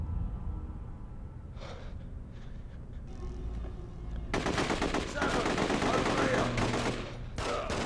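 Video game machine gun fire, quiet ambience and brief sounds at first, then a loud sustained rattling burst that runs to the end.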